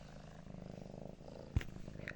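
A cat purrs close up in a steady low rumbling rhythm, quiet, with a brief bump and a soft sound near the end.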